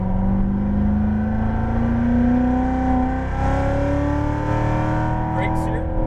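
A Chevrolet Corvette Z06 Stingray accelerates out of a track corner from inside the cabin, its engine note climbing steadily in pitch as it pulls, loud and continuous with a brief dip near the shift.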